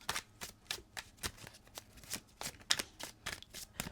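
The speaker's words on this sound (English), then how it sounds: "So I shuffled these cards twice" Tarot cards are shuffled close by in quick, regular riffles, about a dozen crisp papery bursts in steady rhythm, soft and with no talking.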